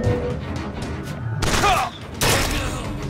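A sniper rifle shot in Bioshock Infinite, with two loud booming gunfire blasts close together amid game ambience and some speech.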